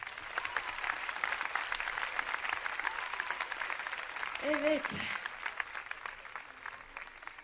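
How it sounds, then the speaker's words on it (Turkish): An outdoor concert audience at Rumeli Hisarı applauds in a dense, steady wash of clapping that runs through the whole stretch, with a brief voice speaking over it. "Bir alkış da alalım."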